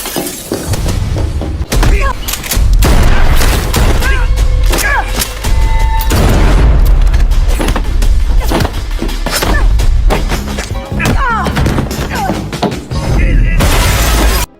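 Loud gunshots in a hitman film scene where a woman fires at a man who dodges and flees, sharp bangs and crashes mixed with a dense dramatic score and effects.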